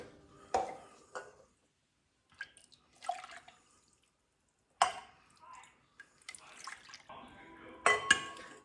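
Broth is poured into 1.5-pint plastic deli containers for freezing, heard as quiet, close splashes and trickles in short separate bursts with brief pauses between them.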